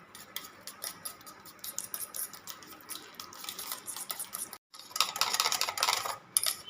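Cake batter of wheat flour and powdered sugar being mixed by hand, with a steady run of quick scraping, clicking utensil strokes against a bowl, fairly faint and close, with no talking.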